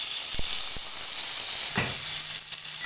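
Vinegar hits garlic frying in a pan, setting off a steady, hissing sizzle with a couple of brief clicks and a scrape of stirring, close and continuous with no talking.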